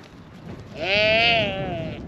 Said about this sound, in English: These sheep are huge.